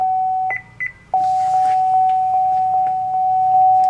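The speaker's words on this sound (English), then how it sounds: "push and hold that button until you hear it beep" Seat memory button on a 2015 Chevy Traverse beeping: two short clipped electronic beeps, then one long steady tone that holds to the end, close and clear over faint interior clicks.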